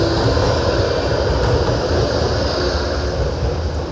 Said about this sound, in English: So trams just going up and down.